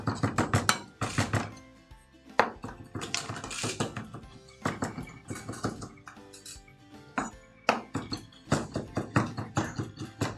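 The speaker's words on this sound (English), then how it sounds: "So this is just your fresh parsley. And we want this chopped up nice and fine." Fresh parsley chopped finely with a knife on a board at a quinoa salad cooking demonstration: rapid, clattering knife taps in quick bursts, crisp and close, continuing throughout with brief pauses.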